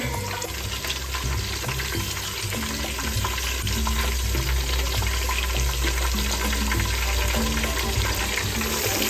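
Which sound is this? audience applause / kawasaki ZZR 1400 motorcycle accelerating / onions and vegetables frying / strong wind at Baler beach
onions and vegetables frying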